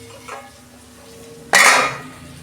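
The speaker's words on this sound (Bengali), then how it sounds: "2 মিনিট আমি ঢাকা দিচ্ছি" A lid goes onto a pan of pabda fish cooking with potato and eggplant: a quiet stretch, then one sudden loud metallic clatter and rattle that fades over a second.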